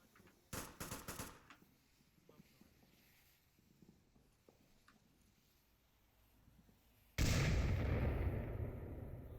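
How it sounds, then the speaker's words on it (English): A grenade goes off in the VR shooter Onward during a competitive match, a sudden loud broadband blast near the end that holds as a sustained roar, after earlier sharp gunshot-like cracks and quieter footsteps. "Nade going off, falls a bit short."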